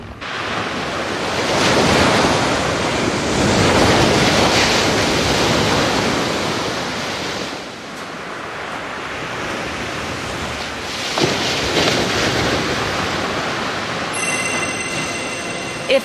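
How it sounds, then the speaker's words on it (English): Ocean waves break on a beach in a steady, loud roar of surf, with wind buffeting the microphone; the wash dips briefly midway, then surges again. "To the beach."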